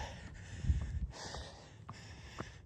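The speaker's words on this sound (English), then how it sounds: "Sorry for the heavy breathing." Heavy, ragged breaths puff close to the microphone during an uphill trail run at sunset, in gusty bursts with wind-like rushes between them and no talking.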